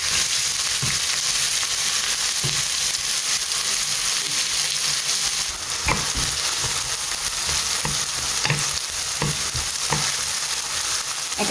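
Chopped onion fries steadily in a pan for paneer bhurji, a dense close sizzle throughout with occasional stirring clicks and scrapes of the spoon.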